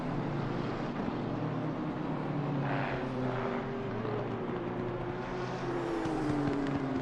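Race car engine in Assetto Corsa Competizione on the Monza circuit, a steady broadband engine drone with harmonic lines slowly rising and falling through the corners, with wind-like rush over it, no talk.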